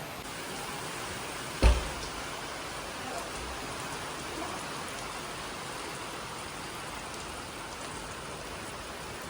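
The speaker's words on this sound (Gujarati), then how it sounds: "અને અત્યારે જો મસ્ત વરસાદ ચાલુ થઈ ગયો છે." Steady rain pours down in a residential society during a sudden downpour, a continuous even hiss with one brief thud early on.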